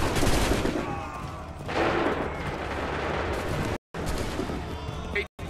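Musket volleys in Assassin's Creed III, dense overlapping gunfire bursts forming a loud, noisy roar with a fresh surge partway through, broken by two brief dropouts, voices faintly under it.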